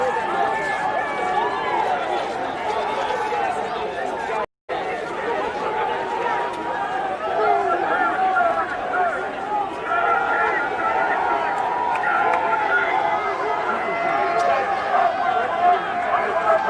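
A crowd outside the Phoenix elections office moves off on foot, a continuous hubbub of many voices and footsteps that holds steady and close, with one brief cut in the sound.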